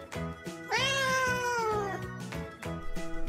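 A cat meows once, a long drawn-out call rising then falling, heard alone and fairly close against a soft tonal music backing.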